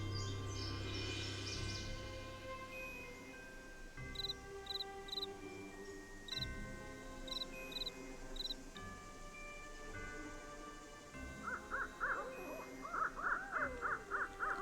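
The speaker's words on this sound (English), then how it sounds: "I hear lots of birds." Birds call in the Nancy Drew: Ghost Dogs of Moon Lake video game, with repeated short chirps and caws over a low ambient drone, faint and scattered, then denser warbling toward the end.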